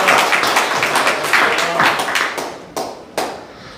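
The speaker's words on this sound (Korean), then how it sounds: "귀한 말씀으로 우리에게 생명을 주시는 우리 김영원 감독님께 다시 한번 큰 박수 부탁드리겠습니다" Audience at a church committee meeting and security seminar gives a round of dense clapping that builds, then thins into a few scattered, isolated claps at the end.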